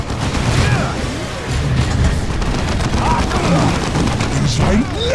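Cannon fire and battle explosions in the video game Warhammer 40,000: Dawn of War 2, loud continuous rumbling booms and crackling gunfire filling the scene, with shouted unit voices over the combat.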